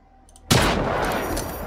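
In the Generation Zero video game, a sudden loud explosion as robots and a tower blow up cuts in after near-silence, then a dense rumbling wash of blast and gunfire sustains without talk.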